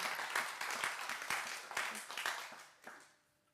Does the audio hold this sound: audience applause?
yes